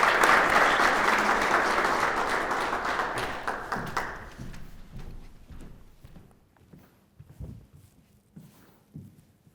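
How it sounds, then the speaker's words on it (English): Audience applause for a petroleum engineering PhD contestant at a university research presentation competition, loud and dense for about four seconds before tapering into scattered claps and footsteps. "Let's give a round of applause for Sherif."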